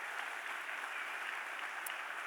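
Steady applause from a church congregation during a sermon, continuous clapping that neither builds nor fades, heard from a distance.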